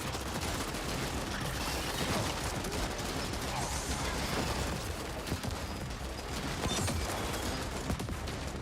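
Turrets firing in the video game The Ascent, continuous dense rattling gunfire and mechanical clatter over a noisy battle mix, with occasional voices underneath.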